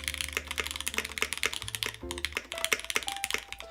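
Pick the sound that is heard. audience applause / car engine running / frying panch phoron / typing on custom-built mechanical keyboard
typing on custom-built mechanical keyboard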